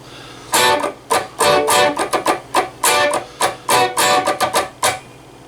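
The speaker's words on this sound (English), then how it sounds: "you hear the guitar a little louder when he hits these power chords" Distorted electric guitar power chords strummed in a choppy rhythm, loud ringing hits alternating with short muted strums, played alone.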